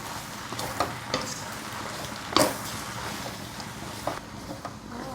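Wide rice noodles stir-fried with vegetables in a pan for a Thai soy sauce noodle dish, giving a steady low sizzle with occasional scraping and clacking strokes of a spatula, fairly close, with no talk.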